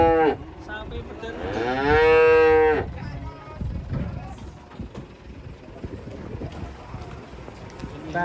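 A calf gives one long, loud moo at a cattle unloading point, with shuffling hooves and background noise around it and voices nearby.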